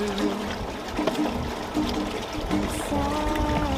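Water pours steadily into a blender pitcher, a continuous splashing gurgle with a faint ringing tone, close and alone.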